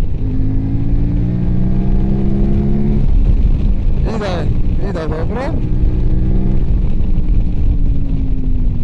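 A QJ Motor motorcycle revs on a test ride, its engine droning loud and close with sharp rising throttle blips in the middle, and a rider talks briefly over it.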